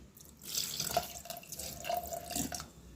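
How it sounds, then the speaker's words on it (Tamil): Water runs steadily from a tap into a pot of mutton biryani, a continuous splashing stream that rises and falls slightly, close by with no voices. "இப்போ கொஞ்சம் பத்தலை தண்ணி கொஞ்சம் சேர்த்துப்போம்"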